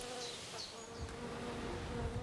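A honeybee colony hums steadily at the hive on a hot day, a dense continuous buzz of many bees with individual bees droning close past the listener now and then.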